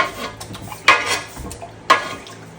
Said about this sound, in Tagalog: hinahalo natin to hanggang maluto yung ating pampalambot sa ating ice candy